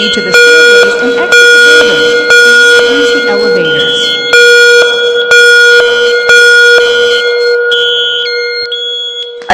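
A repeating electronic fire alarm bell in a Roblox game rings in steady bursts, loud and continuous, with a calm announcement voice speaking over it.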